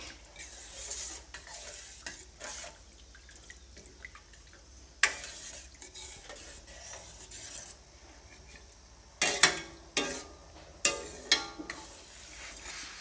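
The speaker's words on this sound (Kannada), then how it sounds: "ನೀರನ್ನು ಹಾಕ್ಕೊಂಡ್ಮೇಲೆ ಒಂದ್ಸರಿ ಚೆನ್ನಾಗಿ ಮಿಕ್ಸ್ ಮಾಡ್ಕೊಳ್ಳಿ" Bansi rava (semolina) is being stirred with water in a pot for upma, heard as steady low swishing strokes. Sharper scraping knocks come in a cluster toward the end, with no one speaking.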